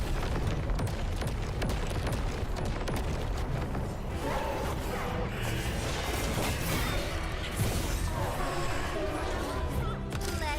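Explosions in Arknights Endfield go off in a dense, nonstop barrage of booms, crashes and rapid gunfire-like bursts, loud and layered across the whole stretch of busy combat audio.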